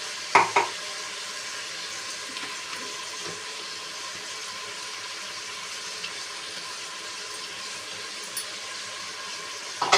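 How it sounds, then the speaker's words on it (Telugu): Ginger garlic paste frying in a pan for prawn biryani, a steady soft sizzle close by with a few sharp scrapes and clinks of stirring at the start and end. "అల్లం వెల్లుల్లిపాయ పేస్ట్ కూడా వేస్తున్నాను, బాగా మగ్గుతుంది"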